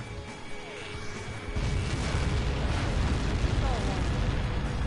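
Missile impact in Ace Combat 7, a deep sustained rumbling explosion swelling up and holding loud and broad, with radio voices speaking over it.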